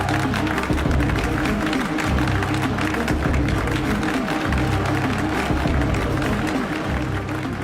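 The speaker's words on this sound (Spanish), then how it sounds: "aplaude y vitorea" A large crowd in a hall claps and cheers steadily and loudly throughout, a dense continuous roar of applause with no clear breaks.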